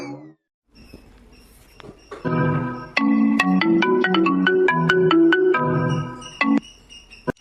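A phone ringtone plays a bright repeating melodic tune, loud and close, preceded by a few soft clicks and notes, with no talking over it.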